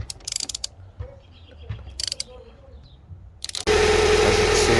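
A ratchet with a 10mm socket tightens the battery terminal on a Hyundai Elantra, giving a few short bursts of close metallic clicking, then a loud steady broadband noise that fills the final second.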